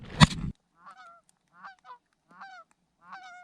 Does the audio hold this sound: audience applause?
no